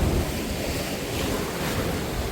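Sea surf with wind at the coast near Songjiho in Goseong, Gangwon: a steady, dense wash of waves rolling in under heavy wind noise on the microphone, loud and continuous, with no talk.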